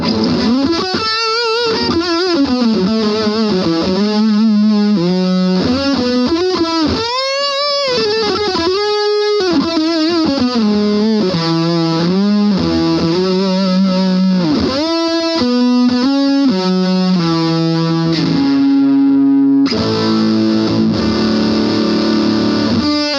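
Electric guitar played through a Boss DS-1 distortion pedal with the distortion turned all the way up, producing loud, saturated, buzzy sustained notes and chords in a continuous riff with no talking.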